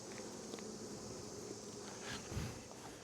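A soft, continuous buzz of many honey bees comes from an open hive full of nectar and propolis during a September inspection, faint and steady, with a few light handling sounds.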